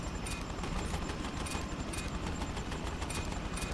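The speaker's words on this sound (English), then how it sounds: "Fire some machine guns at it." Sustained machine gun fire in Prototype, a continuous loud rattling stream with rhythmic sharper bursts repeating throughout, heard alone without talk.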